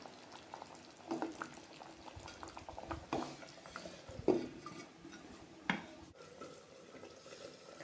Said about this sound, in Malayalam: തിളച്ച് തുടങ്ങിയിട്ടുണ്ട്. മീൻ അടച്ച് വയ്ക്കാം.